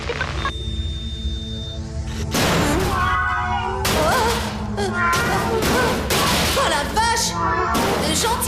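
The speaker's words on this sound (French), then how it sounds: "le chat, hein?" A cat meows repeatedly, several drawn-out, wavering cries close by, over a steady low hum.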